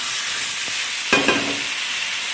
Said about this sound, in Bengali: এবার দিয়ে দেবো পটলগুলো, পটলগুলো দিয়ে একটু কষাবো